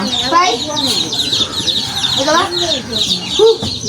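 Chickens cluck in a backyard coop with young chicks, steady overlapping clucks and high peeping chirps close by, with voices faintly mixed in.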